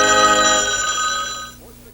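A telephone bell rings loud and close in a 1979 TV commercial, a steady bright ringing that runs about a second and a half before cutting off.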